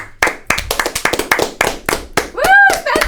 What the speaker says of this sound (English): We're not clapping to sync. We're clapping for you.